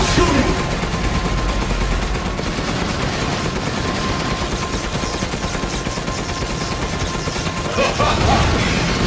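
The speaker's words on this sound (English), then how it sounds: "Keep shooting!" Sustained gunfire in Resident Evil rattles steadily and loudly through the whole stretch as a dense machine-gun-like barrage, with crashing and mechanical clatter mixed in.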